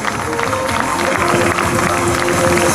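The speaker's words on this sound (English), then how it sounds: "Give them a round of applause, ladies and gents." A crowd on a busy London street at an NFL fan event claps and cheers loudly, with a thick, continuous roar of applause and crowd noise.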